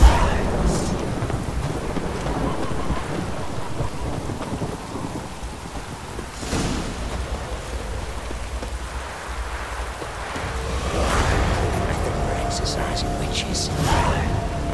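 Steady heavy rain and deep rolling thunder in the Witcher 3: Wild Hunt, with sharp cracks of thunder breaking through the downpour and a person talking over the storm.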